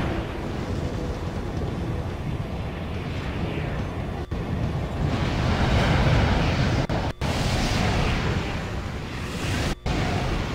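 An explosion in the mech video game Armored Core 4 Answer: a loud, sustained, noisy roar that swells midway, broken by a few abrupt dropouts, with no voices.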